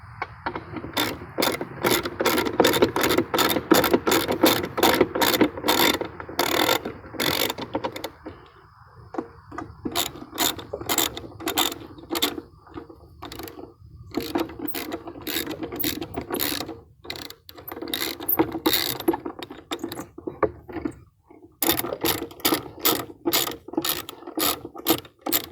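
A ratchet tightens the belt on a DR trimmer mower: loud, close bursts of rapid clicking in repeated runs, broken by short pauses.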